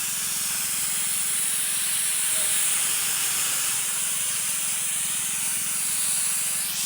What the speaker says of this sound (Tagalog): Tayo naman po yan sa spray.